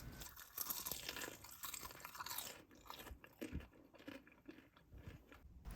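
Crisp crunching bites of an oven-baked potato millefeuille up close, a dense crackly burst at first, then softer, irregular chewing crunches with no talking.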